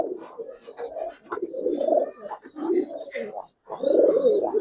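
Giribaz pigeons coo in soft, repeated throaty bursts close by, with short gaps between phrases and a faint voice at times.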